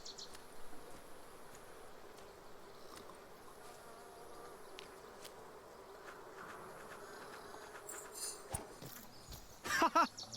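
Wasps buzz steadily around a nest in The Pillars of the Earth game, a soft continuous insect drone with scattered clicks, followed by a few louder bursts near the end.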